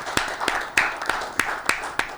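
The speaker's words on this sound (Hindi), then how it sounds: "उनके लिए ज़ोरदार तालियां बजाएं" Scattered claps at a church gathering honoring a volunteer Christian TV team in Sialkot, several sharp hand claps spaced irregularly over a faint room wash, thin rather than a full ovation.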